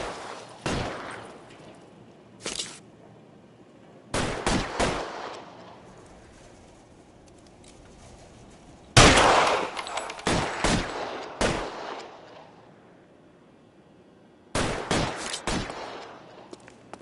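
Gunfire in the 1940s Los Angeles crime game L.A. Noire, loud sharp bursts of shots in separate volleys with quiet gaps between them, no voices.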